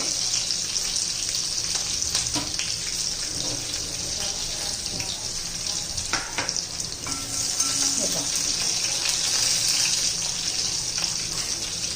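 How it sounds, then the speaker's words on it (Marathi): Green chillies and garlic frying in oil for a drumstick-leaf dish, a loud, continuous sizzle close by with occasional stirring knocks. "मिरची परतून द्यायची चांगली भाजीला चांगलासा तिखटपणा आला पाहिजे लसणाचा पण असा कलर बदलला पाहिजे"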